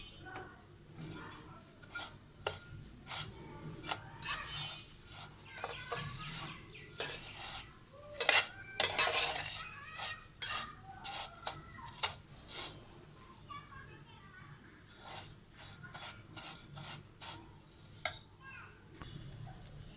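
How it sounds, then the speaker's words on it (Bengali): A utensil scrapes and clinks against a pan while vermicelli fries in butter until crisp, giving quiet irregular rasps and taps over about twenty seconds. "সেমাইটা একটু সময় নিয়ে মুচমুচে করে ভেজে নিতে হবে।"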